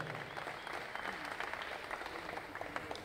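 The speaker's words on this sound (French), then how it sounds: "qu'on applaudisse et qu'on se fasse du bien, qu'on se fasse du bruit dans cette salle au Palais des Sports" Audience applauding in a hall at the Palais des Sports during a press conference for the Octogone 2 fighting event, a continuous fairly faint wash of clapping with scattered sharper claps.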